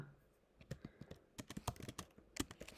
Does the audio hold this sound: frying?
no